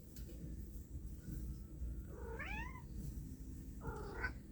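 A pet cat at home yowls and meows twice in drawn-out, rising cries, close by, over a low steady room rumble.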